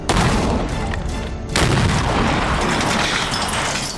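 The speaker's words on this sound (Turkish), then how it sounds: "Hermetik kutularda boş arazide el bombalarıyla testler yaptırdı" Hand grenades detonate inside sealed hermetic boxes on open empty ground during a blast test, giving two loud, close booms about one and a half seconds apart, each trailing into a long rumbling decay.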